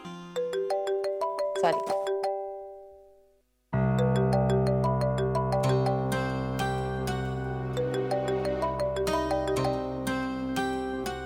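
A phone rings with a repeating melodic ringtone that goes unanswered, stops briefly, then resumes louder and fuller; one person speaks a single short word.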